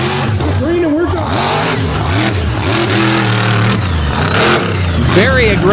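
A race car accelerates through a drag-style course at Fowlerville with an engine note rising and falling in sweeping revs, loud and close, while an announcer talks over it throughout.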